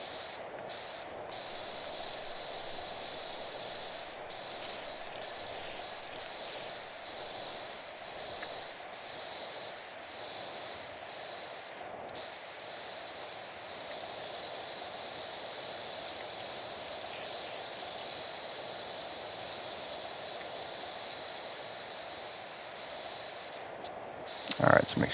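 A pressure washer hisses in a steady, unbroken spray for about twenty-five seconds in PowerWash Simulator 2, a constant mid-level rush with brief clicks and a short louder burst at the very end.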